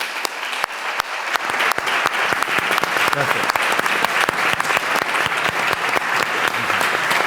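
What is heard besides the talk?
audience applause at a book presentation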